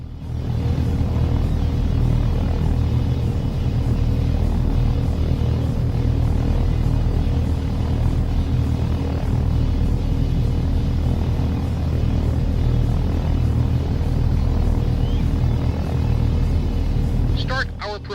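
Steady, loud engine drone and rotor rumble of a helicopter in a helicopter training video game, continuous and unbroken throughout.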